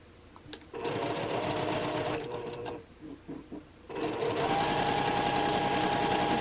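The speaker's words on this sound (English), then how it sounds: "when you are sewing on a machine" A sewing machine stitching a quarter-inch quilt block seam, running in a loud steady whir, pausing briefly with a few short bursts, then whirring on again close by.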